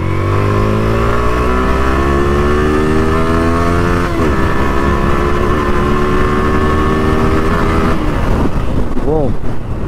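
A Yamaha R15 v3 motorcycle revs loudly and continuously at close range, engine pitch rising and sliding through several climbs, with a sharp rev change near the middle and a falling blip near the end.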